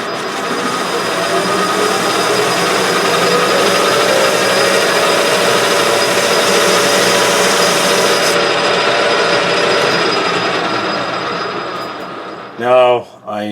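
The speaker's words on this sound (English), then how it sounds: "I'm just going to cut a small groove" Wood lathe cutting a small groove in a spinning wooden workpiece, a loud, steady, close scraping whir that holds for several seconds before winding down, ending with a brief voice.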